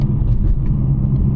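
A BMW M4 F82 Competition with a Stage 1 tune pulls hard, its engine a loud, close, deep rumble heard from inside the car over this short burst, with no talking.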